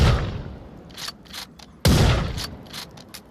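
Gunshots from a gun in the VR game Onward, two loud close cracks each followed by a decaying rumble and scattered lighter pops, no voices.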